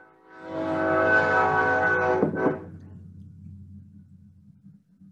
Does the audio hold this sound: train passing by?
yes